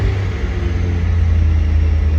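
MG car engine running steadily on the road, a close, continuous low rumble with a level drone and no talking.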